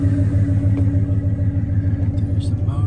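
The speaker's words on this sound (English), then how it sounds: "The truck going, hooked up to the truck." A pickup truck idles with a jon boat on its trailer hooked up, a loud low pulsing engine rumble running steadily throughout, with a person talking over it.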